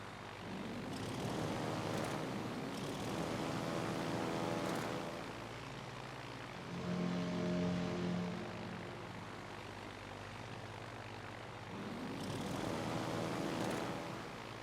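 Carrier aircraft in World of Warships: Legends drone past in waves, propeller engines swelling and fading three times over a steady low rumble, with no talking.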